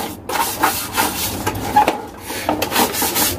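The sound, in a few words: sweeping dust off an exhaust fan with a broom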